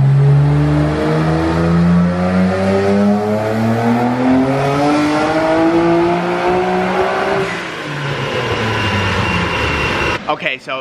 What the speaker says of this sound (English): I'm gonna film the dyno pulse through the back now so you guys can actually hear it.